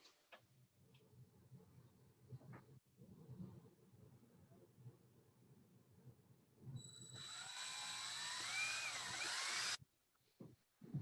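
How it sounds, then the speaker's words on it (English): A power drill drives a self-tapping screw into a rocket nose cone indoors, a steady high whine lasting about three seconds after quiet room noise, then stopping abruptly. "Oh, everybody's jealous because they hear that drill."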